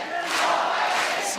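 A wrestling crowd at a bloody light-tube deathmatch chants a wrestler's name, a loud, sustained roar of many voices in unison filling the hall.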